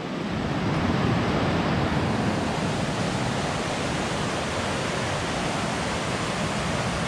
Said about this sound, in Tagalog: rinig nyo na ba yung ilog?